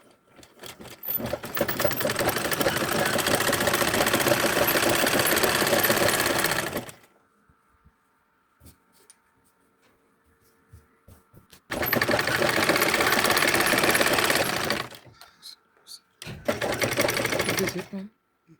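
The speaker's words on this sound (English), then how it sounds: "So I'm going to take it to my sewing machine this way." Sewing machine runs in two long bursts with a shorter third, a fast steady mechanical whir, separated by quiet pauses.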